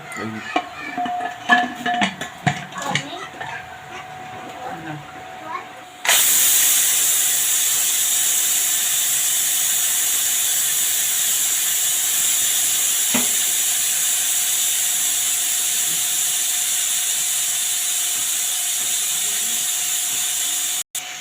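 A pressure cooker cooking gosht kosa lets out a loud, sustained whistling hiss of escaping steam for about fifteen seconds, preceded by a few clanks and rattles.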